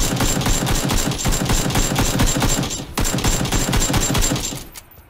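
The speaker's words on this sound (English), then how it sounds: "I shoot it quite often hoping to blow it up." Rapid automatic gunfire in the video game PUBG aimed at a Jeep near buildings: a long loud stream of fast evenly spaced shots, one brief break near the middle, then more firing that fades out at the end.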